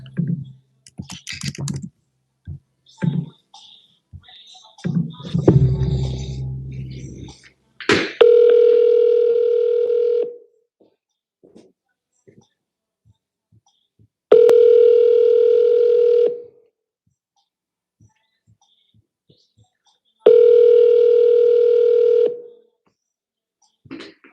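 A telephone call rings out in repeated long steady tones, three loud bursts a few seconds apart, preceded by clicking and keypad tapping.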